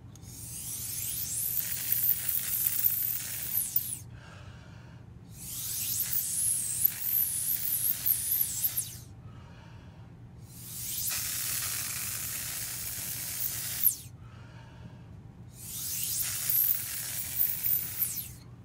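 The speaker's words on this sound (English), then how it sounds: "I'm going to take my vaporizer, pop it in there, and you'll hear me spraying this guy" Four long bursts of fine misty spraying from an atomizer spraying watered-down ink, each several seconds, separated by short pauses, over a low steady background hum.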